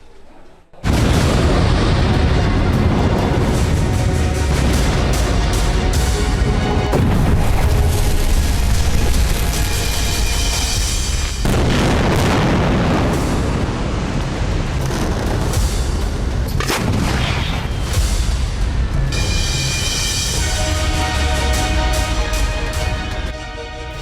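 Israeli air strikes on Gaza, heard as a long, loud barrage of heavy booming explosions and blasts that rumble on continuously, with sharper cracks standing out near the middle and toward the end.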